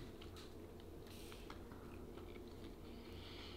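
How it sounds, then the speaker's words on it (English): Close, crisp crunching bites of raw celery topped with mustard, irregular crackly chews repeating over a low steady background, with no talk. "you actually use more calories chewing celery than you actually get from"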